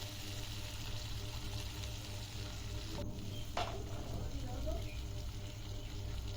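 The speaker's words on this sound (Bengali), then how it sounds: "গরম তেলে ছেড়ে দিতে হবে আগে মাছগুলো দিয়ে পরে এর যে মাখানো মশলাটা আছে সেটা উপর থেকে দিয়ে দেবেন" Bele fish and a spice paste dropped into hot oil for an old-fashioned coconut fish recipe, giving a steady, close sizzle and fry with a brief splash partway through and faint speech underneath.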